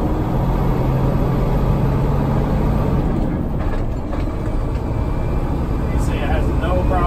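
A 2021 Peterbilt 389 truck pulls up a steep incline with its engine droning loudly and steadily under wind and road rumble inside the cab.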